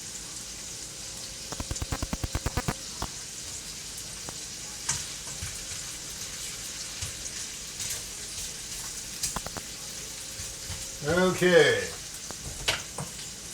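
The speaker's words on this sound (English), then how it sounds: "So I put a little oil in the pan, started it heating up. Threw in the cut up sausage" Cut-up linguica sausage fries in oil in a heated pan, giving a steady soft sizzle broken by a few clicking utensil taps, with a person speaking briefly near the end.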